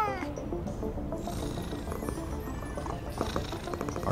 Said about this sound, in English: Our cat was needing some loving, apparently.